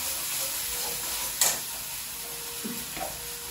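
Food fries in a pan with ground ginger and cumin paste while it is stirred, giving a steady close sizzle and a few soft scrapes and clinks from the spoon.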